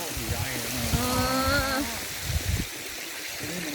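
Thi Lo Su waterfall in Thailand flows with a broad, steady rushing hiss, heard from a distance beneath people chatting nearby.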